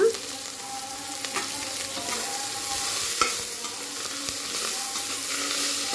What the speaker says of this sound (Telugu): ఇది ఒక 2 నిమిషాలు ఫ్రై చేసి తర్వాత వెజిటబుల్స్ ఒక్కొక్కటిగా యాడ్ చేద్దాము